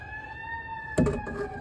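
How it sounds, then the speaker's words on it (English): A distant emergency siren from a fire truck or ambulance wails as a steady tone in the background, interrupted by a brief close knock or clunk near the end. "there's always a fire truck or ambulance or helicopter"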